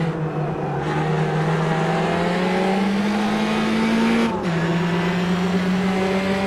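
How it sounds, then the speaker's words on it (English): A Formula Trainer race car engine in the Automobilista racing sim revs steadily upward with a loud, harsh drone, then cuts briefly for an upshift and climbs again, sounding close and continuous. "It's a very enthusiastic sounding car"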